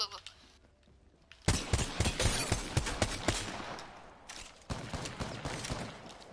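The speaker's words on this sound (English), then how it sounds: "The G7 is just an assault rifle when you go up close" G7 Scout rifle in Apex Legends firing a rapid burst of loud, close shots, then a short pause and another volley.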